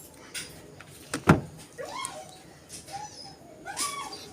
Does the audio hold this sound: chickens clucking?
no